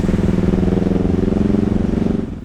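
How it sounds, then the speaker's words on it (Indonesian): A modified big-bike motorcycle on a test ride, with a loud, close engine pulsing in a rapid, steady beat that fades slightly at the end, with no talk. "Oke, coba sekarang kita lihat pas motor ini di test ride."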